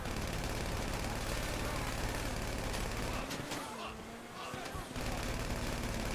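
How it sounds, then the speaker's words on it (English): Gunfire in the video game GTA Online, a dense continuous burst of rapid shots with a truck nearby, broken by a short lull before the firing resumes, with voices present. "It doesn't really care about gunfire?"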